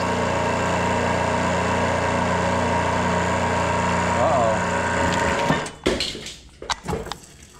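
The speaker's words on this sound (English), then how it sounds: "that pump's in low gear." A pump engine running in low gear drones steadily and loudly for about five seconds, then cuts out into scattered knocks and clatter, with low-level voices in the background.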